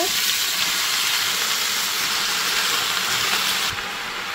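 Spinach fries in olive oil with garlic, giving a steady, loud, broadband sizzle and hiss that holds throughout and drops slightly near the end.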